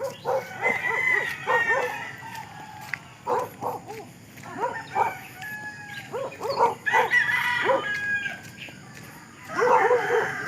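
A dog barks in sharp bursts among clucking chickens and a rooster's crow, with a busy outdoor barnyard background.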